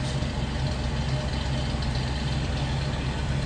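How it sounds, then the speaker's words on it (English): A 1977 Lincoln Continental Mark V's V8 engine idles steadily, a deep, even low rumble heard up close and loud with no talk over it. "I'd say sounds as you'd expect. V8 power back in the 70s."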